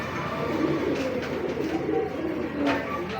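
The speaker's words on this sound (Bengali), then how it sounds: "চোখ মাশাআল্লাহ দেখার মতো একটা কবুতর" Domestic pigeon, a young male with a leg ring, cooing close by in low, rolling murmurs that continue steadily through the clip without speech.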